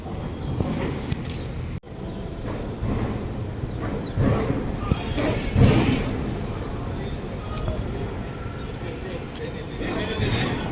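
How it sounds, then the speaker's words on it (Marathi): A train rumbles and clatters past close by, a heavy, steady roar throughout, with voices of pilgrims on a foot procession faintly in the background. "किती ट्रॉफिक आहे ट्रेन जात आहे आता"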